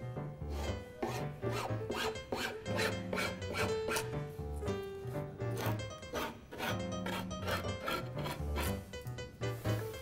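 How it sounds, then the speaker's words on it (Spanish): Excess laminate along the edge of a chipboard furniture panel is trimmed off, producing steady rasping, scraping strokes in a repeated rhythm, close and fairly quiet, with no talk. "vamos a proceder a refilar el excedente de cada"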